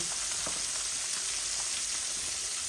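A small onion frying in hot oil for a curry: an even, close hiss of sizzling with faint crackles and a soft stir, steady for the whole moment, with no talking.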